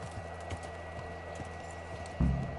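A noblewoman's horse trots in Kingdom Come Deliverance, its hooves clip-clopping in a steady, moderately quiet rhythm before a heavier low thump near the end.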